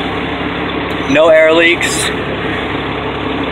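A Ford L9000 truck with a Cat 3176 diesel engine and air starter idles with a steady, loud, close drone, while someone speaks briefly over it.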